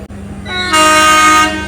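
The Sagardari Express intercity train sounds a loud, sustained horn with a rich steady tone that swells and holds close by over the rumble of the train on the rails, then begins to fade.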